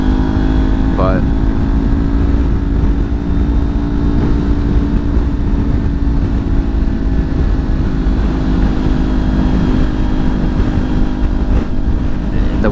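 Strong wind buffeting a rider on a Kawasaki Ninja 400 motorcycle, a loud constant roar blended with steady engine drone throughout, no break in the noise.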